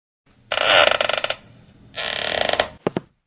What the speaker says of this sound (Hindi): किसी चीज के घिसटने की आवाज सुनाई दी